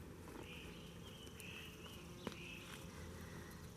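Bumblebees buzz faintly around a rhododendron shrub full of spring blossoms, soft intermittent hums drifting in and out over a quiet outdoor background with one small click.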